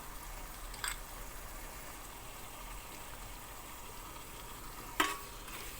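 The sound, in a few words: stirring noodle masala into vegetables in a pan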